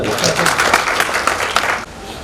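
An audience at an inaugural ceremony in Udaipur bursts into loud, dense applause that fills the room, then cuts off abruptly near the end.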